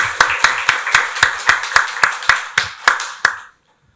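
About a dozen hand claps from a church congregation during a Sunday worship service, loud and fairly evenly spaced at first, then thinning to a few sharper claps before stopping into silence.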